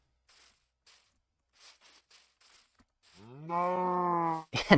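Several quiet taps are followed by a single loud, drawn-out cow moo with a strong tonal drone, close and clear, then a sudden crunch. The cow is one of several in a pit.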